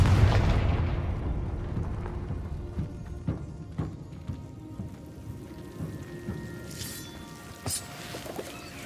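A Confringo fire spell bursts in Hogwarts Legacy with a loud boom that decays into a rumbling tail, followed by scattered smaller crackles and impacts of spell effects and debris.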